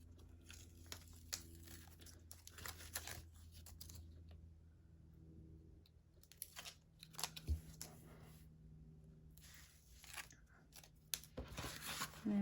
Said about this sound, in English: let's peel off our score tape